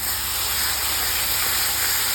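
Ground sesame paste fries in a hot pan, giving a steady, loud, broad sizzling hiss that holds unchanged throughout without pause.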